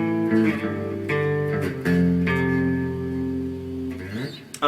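An electric guitar plays a short pop-punk melodic fill, a handful of sustained, bending notes that slide and ring out before fading.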